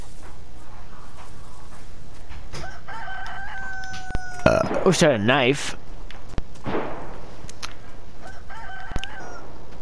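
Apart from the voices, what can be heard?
rooster crowing in a video game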